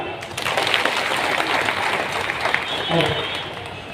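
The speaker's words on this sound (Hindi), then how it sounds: "जोरदार ताली" Audience at an International Adivasi Council gathering in Nagpur bursts into loud applause, dense clapping with voices mixed in over about four seconds.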